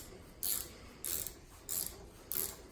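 Ratchet wrench turning in a garage, four short bursts of rapid clicking spaced evenly apart, close and fairly quiet with no talk over them.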